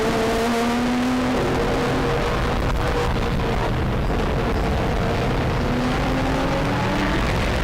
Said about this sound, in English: He says he can hear the cars much better.